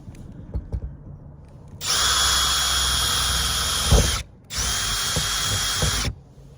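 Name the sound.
power drill drilling a hole in a van roof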